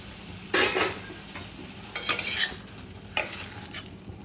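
Fried jackfruit and potato pieces tipped into spice paste sizzling in oil and stirred, with three bursts of scraping, clinking spatula strokes against the pan over a soft, continuous frying hiss.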